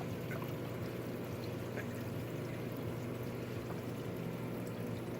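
Water drains steadily through an aquarium sump after the pump stops, a continuous faint trickle and pour with a low hum beneath and no voices.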